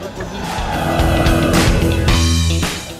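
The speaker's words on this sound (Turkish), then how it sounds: "Bunlar hız tekneleri." Powerful speedboat engines roar steadily at close range during a Phi Phi island tour, a loud sustained mechanical drone with surging, rising pitch and no talk over it.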